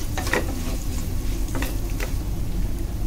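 Nigella and white sesame seeds sizzling in hot oil for an aloo masala: a continuous close frying hiss with a few soft stirring scrapes, alone without speech.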